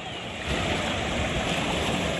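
A river flows in a steady, broadband rush of water that swells slightly after the first half second, with no voices over it.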